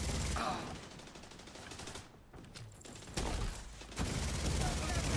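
A video game machine gun fires in steady, rapid strings of rounds, loud and dense, pausing briefly midway before resuming, with game sounds mixed in.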